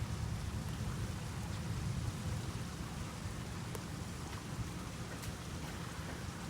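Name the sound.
light drizzling rain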